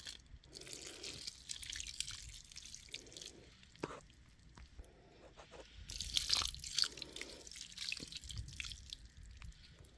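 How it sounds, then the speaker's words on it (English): Water sprinkled onto the slightly dry bedding of a red wiggler worm compost bin makes soft patters, drips and crackles in uneven bursts, growing busier partway through, close and fairly quiet. "I'm going to go ahead and sprinkle some water."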